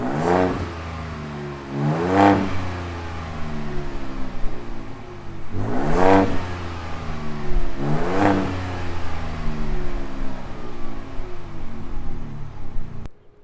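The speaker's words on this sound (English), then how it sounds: "Let's hear this exhaust real quick too." A 2024 Ford Ranger Raptor exhaust barks through quick revs, two pairs of sharp blips a few seconds apart that each fall back to a rumbling idle, loud and close with no speech.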